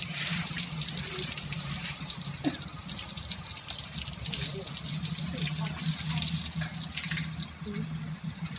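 Tap water runs in a steady, continuous gush while an elephant's injured ear is washed, with voices talking over the flow.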